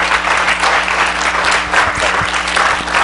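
A church congregation gives a big welcoming round of applause for a pastor coming forward, dense continuous clapping from many hands filling the room, loud and even from start to finish.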